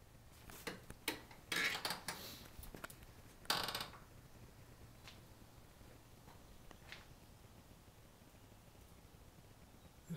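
Old machine shop with every machine run on belts from one motor through a line shaft: irregular metallic clanks and clicks over the first few seconds, then a quiet mechanical hum.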